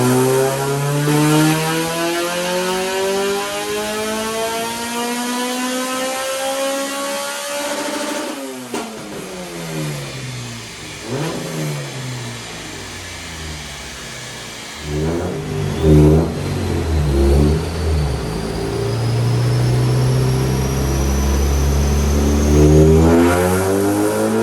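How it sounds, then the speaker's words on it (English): A loud Honda Civic EP3 Type R with a custom tune screams through repeated high-rpm pulls on a rolling dyno inside a closed cell. The revs climb, drop and climb again with sharp crackles between runs, and no one speaks. "Okay, so this EP3 is a loud one."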